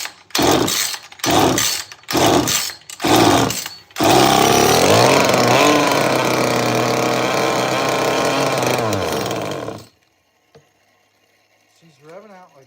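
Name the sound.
old small chainsaw revving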